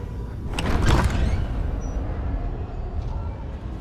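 A door opening in a dark, dry, sterile room, with a sharp scraping burst near the start followed by a low, rumbling slide that fades into a quiet hum.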